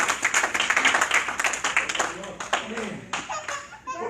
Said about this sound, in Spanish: Habrá alguien más que le dé ese aplauso al Señor Jesucristo.